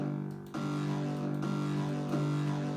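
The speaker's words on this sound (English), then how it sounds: "it's hardstyle inspired type of kick" Hardstyle-inspired kick drum sample playing loud and sustained, with a heavy tonal low body, a distorted upper layer and fresh hits at about 0.5, 1.4 and 2.1 seconds. No one speaks.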